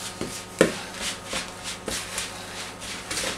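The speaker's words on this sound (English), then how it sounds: "So I'm stirring that around." A spoon stirs a thick oats-and-honey flapjack mixture in a bowl, making soft, irregular scraping and thudding strokes every half second or so, close and fairly quiet.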